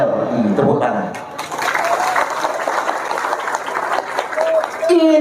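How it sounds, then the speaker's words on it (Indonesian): An audience at an Islamic organisation gathering claps in a broad, rushing burst of applause that rises and holds for a few seconds while a voice keeps talking over it. "Tepuk tangan."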